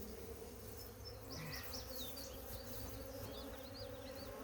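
Carniolan honey bees buzz around a newly installed hive outdoors, a dense continuous drone with individual bees whining past close by.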